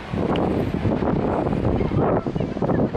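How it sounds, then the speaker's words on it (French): Strong wind buffets the microphone outdoors on a city square in Brussels, a loud, continuous low roar with gusty rumbling that covers everything else. "j'espère que le vent ne gêne pas trop"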